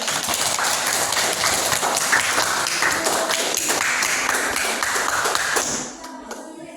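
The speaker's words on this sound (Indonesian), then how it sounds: "Tepuk tangan untuk Ulin." A room of children and adults applauds a pupil during a classroom lesson, steady crowded clapping that holds loud for several seconds and then fades off abruptly near the end.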